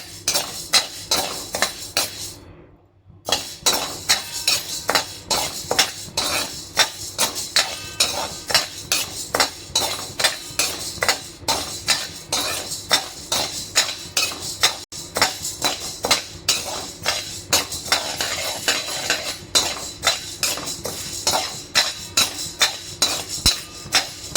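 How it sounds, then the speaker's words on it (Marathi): Wheat grains dry-roasting in a pan, stirred continuously with a steady rapid clatter and scrape of a metal spatula, close and loud, with one brief pause near the start. "आता आपण गहू भाजूया. गहू पण याच प्रकारे भाजायचे."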